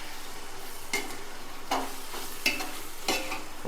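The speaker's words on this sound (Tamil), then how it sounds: "அதோடு ஒரு 4 பச்சை மிளகாயும் சேர்த்து ஆட் பண்ணி இது எல்லாத்தையும் நல்லா ஃபுல்லாக மிக்ஸ் பண்ணி" A spoon scrapes and stirs tomatoes and green chillies in a hot pan for chicken biryani, four distinct stirring strokes spaced about a second apart over a low, quiet sizzle.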